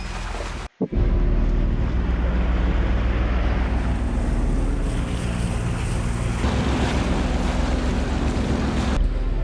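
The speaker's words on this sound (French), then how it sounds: "entends-tu le bruit sourd de mon moteur quand il ronronne" A low, steady engine drone from a boat approaching the Dominican Republic, mixed with wind buffeting the microphone and rushing water, continuous and fairly loud.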